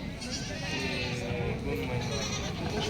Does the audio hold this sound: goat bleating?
yes